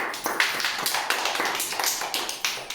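Hands clapping in a quick, slightly uneven run of sharp claps, close and fairly loud, continuing steadily without talk.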